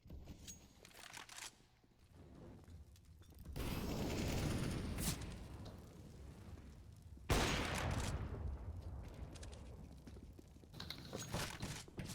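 Bursts of gunfire from a two-versus-three shootout at bombsite A in a Counter-Strike tournament match, sustained crackling volleys with a sharp loud onset midway, mostly free of voices.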